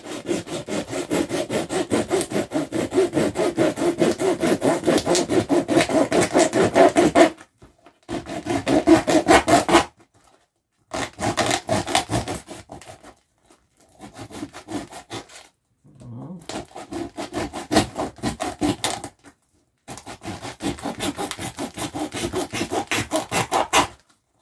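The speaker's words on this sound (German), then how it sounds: "Dann sägen wir das Ganze hier mal so ein bisschen durch." A hand saw cuts through a can in six long bursts of rapid back-and-forth strokes, separated by short pauses. The rasping is close and steady with no talk.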